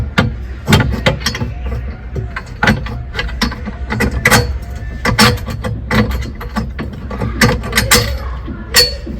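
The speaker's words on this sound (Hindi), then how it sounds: "एक और स्क्रू से इसे इस तरह से टाइट कर देंगे" Tightening a screw on a bed frame set up inside a car for camping, with close ratcheting clicks, metallic clinks and knocks in an irregular series, moderately loud, with no speech.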